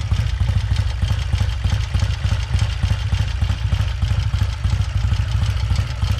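A 1967 Triumph Daytona motorcycle engine with a single-carburetor monoblock setup idles close by. It makes a loud, steady, throbbing low rumble with rapid even pulses and mechanical clatter on top.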